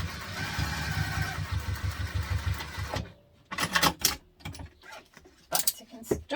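A sewing machine back stitches on backpack webbing, a dense, steady mechanical whirr for about three seconds that then stops, followed by scattered clicks and handling sounds with some talk.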